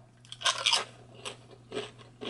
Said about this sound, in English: munching in my mouth